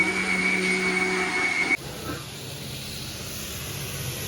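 A kitchen mixer grinder with a fault that makes it keep shutting off mid-run gives a loud, steady motor whine that cuts out abruptly partway through, leaving only a low background hum.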